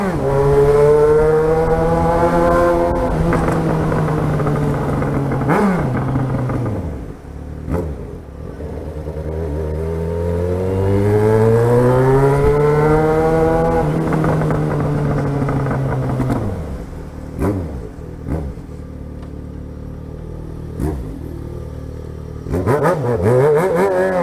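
A Yamaha XJ6 motorcycle engine revving hard, loud and close, with rising and falling revs, brief drops between throttle blips, and more quick revs near the end.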